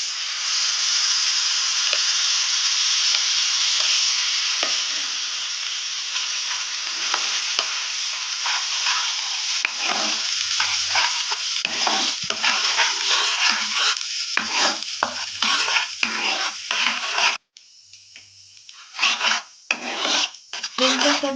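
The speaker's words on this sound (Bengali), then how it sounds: "এবার মশলাটা আমি কষাতে দিয়ে দিলাম।" Masala sizzling hard in a hot pan for paneer pasanda, a loud continuous hiss that breaks into rhythmic scraping strokes of stirring, then drops off briefly before resuming.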